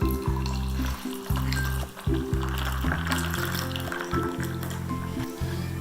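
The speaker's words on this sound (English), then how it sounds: "Just pour your drink out." Liquid from a peppermint White Russian cocktail splashes and trickles out of a shaker into a glass, a close, soft, uneven pour with a few short breaks lasting several seconds.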